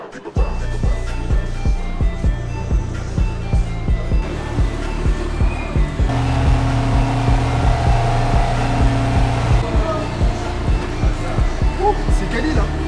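An Audi GT4 race car drives with its engine droning loud and steady from inside the cabin, shifting to a heavier tone partway through, while people talk over it.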